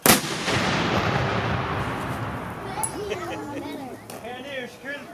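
A gun crew fires a cannon outdoors: a single loud boom at the start rolls away in a long fading rumble, followed by nearby chatter and cheering from the crowd.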